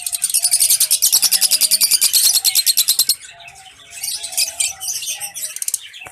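Fischer's lovebirds, a pair of parents with three chicks, chirp and tweet in rapid, dense bursts close by, first a loud continuous chatter and then softer, scattered calls.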